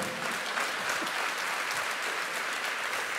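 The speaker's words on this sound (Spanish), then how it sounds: "Yo no sé por qué aplaude." Church audience applauding during a sermon, a dense, even wash of clapping from many hands, continuous and moderately distant with no talk over it.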